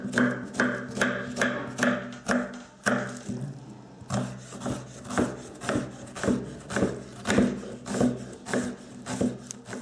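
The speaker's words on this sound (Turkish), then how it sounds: "soğanlarımızı ince doğrayarak işlemlerimize başlayalım" A knife finely chops onions on a wooden board, steady close strokes repeating about once a second, with a brief pause partway through.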